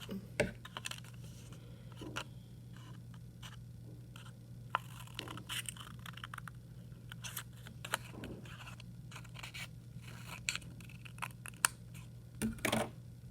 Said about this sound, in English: take your scissors, and we're going to cut a rectangle out